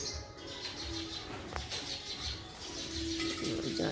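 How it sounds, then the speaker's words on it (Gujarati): Two parrots call and chirp outdoors, fairly near, over a busy rustling background with a sustained whistle-like tone near the end. "અહીંયા બે પોપટ પણ આવી ગયા છે"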